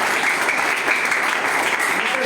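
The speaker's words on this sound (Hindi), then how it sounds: "हमारे इंजीनियर साहब वीरेंद्र चौरसिया जी, इनका भी स्वागत करें आप लोग ताली बजाकर।" An audience at a Janhit Kisan Party workers' gathering in Khalilabad claps continuously, a dense, loud, unbroken wash of applause filling the whole stretch.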